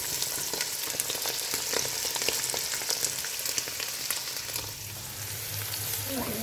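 Beef frying in a pan for Naga-style beef chutney, a loud, continuous hissing sizzle close by, with a low hum entering near the end.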